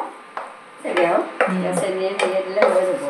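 A spoon stirring roselle pickle cooking in a pot, producing several clanking scrapes against the metal at an uneven pace, close and fairly loud, with a voice talking in between.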